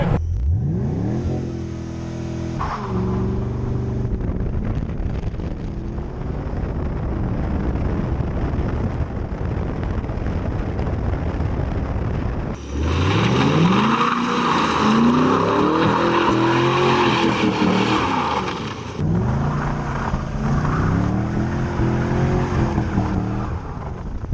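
A Camaro SS and a Lexus ISF accelerating hard with launch control, loud revving engines rising through the gears, with a close, intense burst of engine howl and tire noise in the middle.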